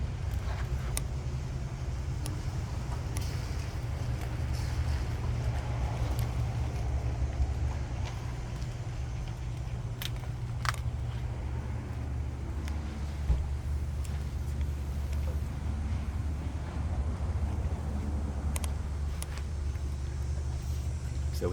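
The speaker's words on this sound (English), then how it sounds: "This car also has Flowmasters, which you'll hear in just a moment." A 1966 Ford Mustang GT350H tribute with a C-code 289 V8, automatic transmission and Flowmaster exhaust idles with a steady, deep low rumble that holds evenly for over twenty seconds, close by, with no one talking.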